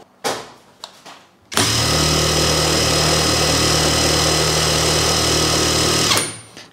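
A Keelat brushless cordless impact wrench on its single high-RPM speed starts abruptly and spins with a steady, loud, high-pitched whine for about five seconds, then stops, after a few faint handling clicks.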